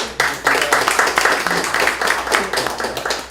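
Applause breaks out at a National Assembly seminar on the North Korean nuclear threat, a close, lively round of clapping from a modest crowd with slightly rhythmic pulses, lasting the whole few seconds.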